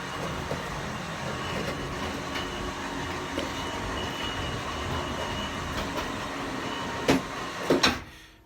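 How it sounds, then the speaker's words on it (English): A hoist draws a carriage up along roof rigging with a steady rumbling, rattling drone, then a few sharp clanks near the end before it cuts off. "Let me send the carriage back up."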